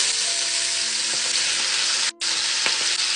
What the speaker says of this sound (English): And then fry your collard greens in it.